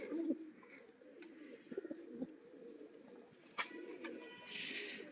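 Soft, low pigeon cooing repeats in a steady murmur, with a few sharper chirps and flutters nearby in a quiet enclosed space, a pigeon loft.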